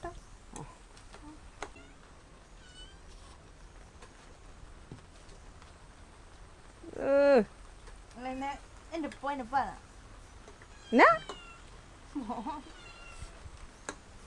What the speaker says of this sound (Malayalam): പൂച്ചയല്ലേ മൂങ്ങുന്നേ?